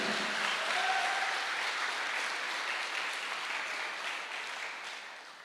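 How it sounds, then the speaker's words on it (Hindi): An audience at a business-plan seminar gives sustained, dense applause that stays loud throughout and fades slightly toward the end, with no voices over it. "तालियों से बेहतरीन कुछ नहीं हो सकता"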